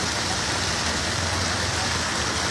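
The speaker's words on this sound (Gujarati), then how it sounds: "જોરદાર વરસાદ" Heavy night rain pours down over Vadodara city as a dense, unbroken roar of hiss, loud and steady throughout with no voices.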